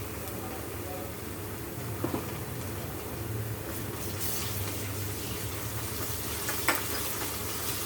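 Ginger garlic paste fries in a pan for fish curry with a soft, steady sizzle. A few light clinks of utensils break through the hiss.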